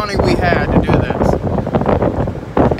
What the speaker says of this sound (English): It's about to start getting windy in here